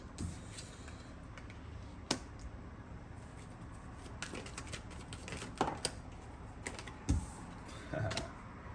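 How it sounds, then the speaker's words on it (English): Soft, continuous shuffling and riffling of tarot cards close by, with occasional sharper snaps and taps standing out over a low rustle. "bear with me as I shuffle these cards."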